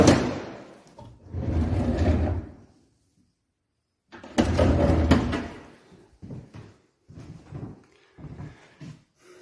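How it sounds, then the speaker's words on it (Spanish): Wooden drawers being pulled open and shut in an abandoned school building, several loud sliding scrapes and knocks with a silent gap between bursts, close by. "Abre los cajones, claro."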